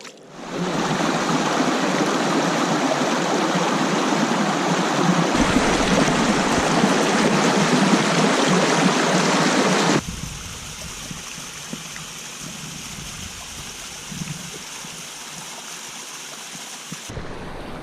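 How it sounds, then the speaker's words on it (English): River water flows in a loud, continuous rush close by. Partway through it drops to a softer, steadier wash, and no one speaks. "we are out here on the river now"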